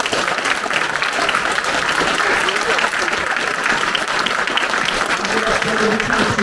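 A theater audience at a children's educational performance claps steadily and loudly throughout, dense continuous applause with some crowd murmur underneath.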